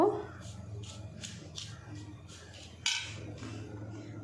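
Ground spices and carom seeds are mixed by hand in a bowl for a chilli pickle, a series of soft, rhythmic scraping and rustling strokes with one louder knock, close by and on their own.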